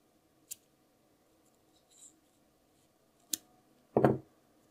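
Scissors trimming crochet yarn ends in a quiet room: a few sparse, close snips, the last one louder and fuller, with silence between.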